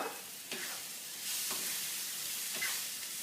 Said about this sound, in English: So that's just a light fry to incorporate flavor rather than to actually cook the tomatoes